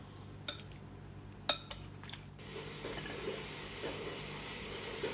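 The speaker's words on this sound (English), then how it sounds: "here's those bread and butter pickles halfway, so I'm giving them a stir" Faint clinks of a utensil against a glass jar of bread and butter pickles, a few sharp taps followed by soft scraping and stirring under a low background hiss.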